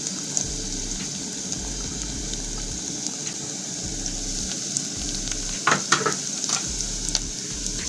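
Garlic hits hot oil in a pan and sizzles with a steady, crackling fry, with a few clinks of stirring near the end.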